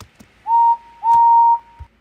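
Henry the tank engine's whistle gives two steady, clear blasts, a short toot followed by a longer one, alone and loud with no talking.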